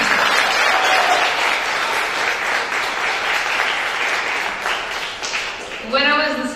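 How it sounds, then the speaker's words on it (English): Loud, close applause from a middle school audience honoring award recipients, a dense wash of clapping that thins out toward the end as a voice begins speaking. "let's just clap for the 5 recipients today"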